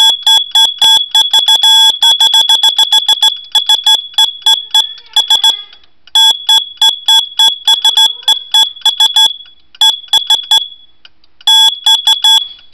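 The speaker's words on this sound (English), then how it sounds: "Musical smoke alarm!" A BRK musical smoke alarm sounds loudly and close up, playing rapid runs of sharp electronic beeps in bursts separated by short pauses, continuing for over twelve seconds.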